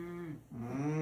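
A cow moos twice in close succession, a long loud low bellow that dips briefly and then rises again, heard alone without talk.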